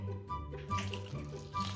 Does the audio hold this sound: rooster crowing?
no